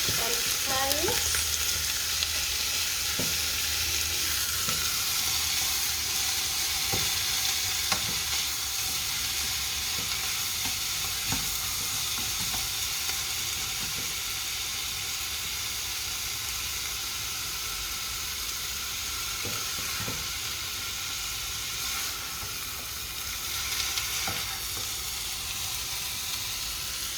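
Kidney stew with ginger and okra frying in a pan, a steady loud sizzle and hiss running throughout with occasional stirring clinks and scrapes, no voices.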